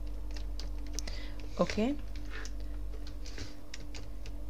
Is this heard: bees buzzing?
no